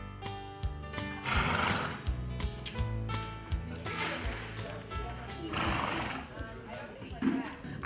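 Horses at an equine-assisted activity program for riders with physical and cognitive challenges give several loud, close whinnies over hoof clopping, with music running beneath.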